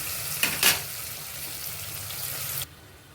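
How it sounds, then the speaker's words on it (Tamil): Tomatoes and green chilies sauté in a pan on the stove with a soft, even sizzle, two quick stirring scrapes early on, and then the sound cuts off abruptly. "இப்போ கொஞ்சம் ஸ்டோவில் வச்சு நல்லா வதங்கணும்"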